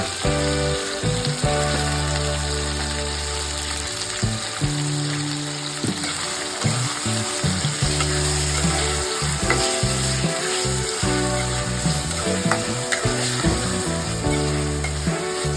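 Washed liver frying in a pan, a loud, dense, constant sizzle close up with scraping and stirring sounds over a low hum, no voices.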